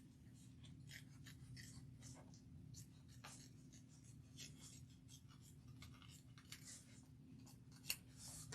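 Scissors cut around the face plate of a fabric bag, a quiet series of short snipping sounds close by over a low steady hum.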